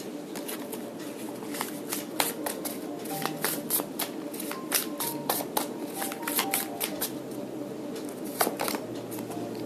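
Tarot cards shuffled and drawn by hand, a continuous busy riffling and flicking of cards with sharp snaps throughout, close and moderately loud, with a faint tone humming underneath.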